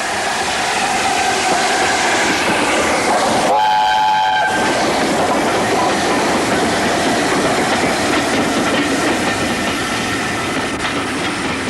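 A steam train rumbles steadily past at Westbury Station with a broad roar, and a loud horn or whistle sounds briefly near the start of the pass.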